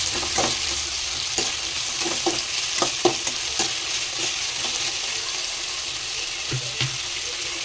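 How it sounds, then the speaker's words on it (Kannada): Onion, green chilli, capsicum and tomato frying in a pan with a steady sizzle, broken by frequent scraping stirs and clicks of a spatula, close and continuous. "ಈರುಳ್ಳಿ ಕಲರ್ ಚೇಂಜ್ ಆಗ್ತಿದ್ದಂಗೆ ಹಸಿಮೆಣಸಿನಕಾಯಿ, ಕ್ಯಾಪ್ಸಿಕಮ್ಮು, ಟೊಮೊಟೊ ಹಾಕ್ಕೊಂಡು ಸ್ವಲ್ಪ ಫ್ರೈ ಆಗೋ ತನಕ"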